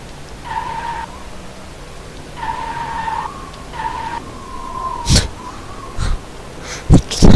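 A handbrake car skid in Enforcer: Police Crime Action: several squealing tyre skids come in separate bursts, followed by a few sharp, loud impact thuds near the end.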